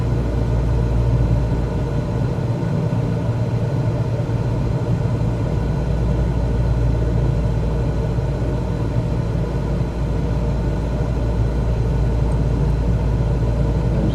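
A flight simulator aircraft engine runs with its throttle pulled back, giving a steady low rumbling drone at moderate level that carries on unbroken throughout, with no one speaking.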